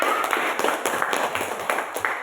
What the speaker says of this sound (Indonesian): Beri tepuk tangan untuk kelompok A.